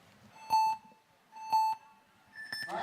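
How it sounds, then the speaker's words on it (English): Two clear electronic start beeps a second apart, then a third longer higher tone, as a crowd murmur rises in an indoor arena at a speed climbing final in Briançon. "And wait for the buzzers."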